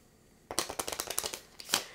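A quick riffle of playing cards being shuffled close up, a rapid burst of crisp flutters ending with a final snap as the deck settles.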